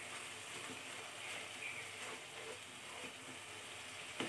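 Spice paste with black cumin and mustard frying in oil, a steady low sizzle and faint crackle that holds evenly throughout, with one small clink near the end.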